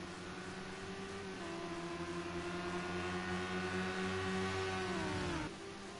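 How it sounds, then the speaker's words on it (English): Radical SR3 race car engines at the Red Bull Ring, a sustained high-pitched droning whine that holds steady, then drops in pitch and cuts off near the end, heard at a distance and fairly faint. "those engines scream with pain as they come down into Schlossgold for the second time"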